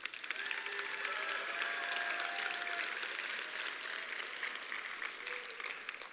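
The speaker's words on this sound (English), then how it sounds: "Let's give all the candidates a round of applause." Applause for all the candidates at a SkillsUSA Michigan opening session, a sustained wash of crowd clapping at moderate distance, with faint whistles or cheers mixed in throughout.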